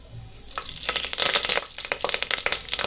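Cumin, a cinnamon piece, curry leaves and chillies dropped into hot oil in a pressure cooker burst into loud, close crackling and spattering that starts after a brief quiet moment and keeps popping unevenly.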